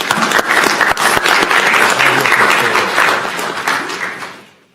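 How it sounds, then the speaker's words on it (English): Audience applause at a county commissioners board meeting, a dense, loud wash of clapping that holds steady for several seconds before fading out. "Let's give them a round of applause."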